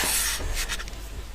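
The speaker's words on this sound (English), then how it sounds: "I give it a light sanding, not a very big sanding" Short bursts of light rubbing and rasping, like fine sandpaper stroked a few times across filler on the edge of a miniature fireplace, close up with no voices.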